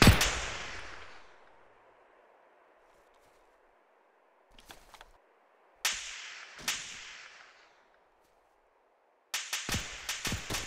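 Arma 2 gunfire: sharp single cracks and short bursts that echo and fade, one loud shot at the start, scattered shots midway and a rapid cluster at the end, with no talk.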